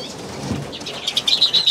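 Pet birds in an enclosure being handled and moved, giving soft bursts of flapping wings followed by a run of sharp, rapid wingbeats and light chirps, close and fairly loud.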